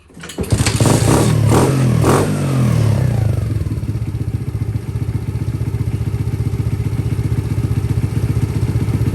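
A Honda C110 motorcycle engine cranks, catches and settles into a loud, steady close-up idle with rapid even putter and mechanical clatter.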